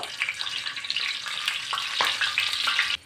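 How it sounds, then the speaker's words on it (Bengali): Garlic and green chillies sizzle steadily in hot oil in a pan, a loud, continuous frying crackle with occasional stirring scrapes, no talking over it. "দুটো কাঁচা লঙ্কা আর রসুন ভাজবো"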